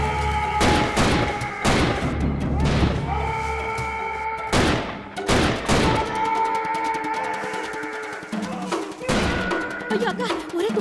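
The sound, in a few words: gunfire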